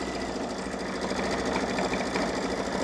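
A Babylock Solaris Vision embroidery machine stitching a Christmas train design, its needle hammering in a fast, even mechanical rhythm, close and steady throughout.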